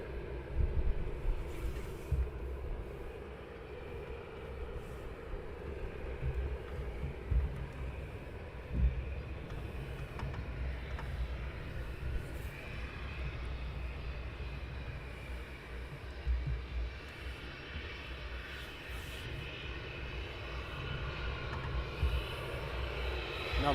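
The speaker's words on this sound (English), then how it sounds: "The next one is going to be a Ryanair departure." A Ryanair airliner departing Luton Airport on an early morning, heard as a distant, sustained low jet roar with fluctuating rumble, steady and faint for over twenty seconds with no voices.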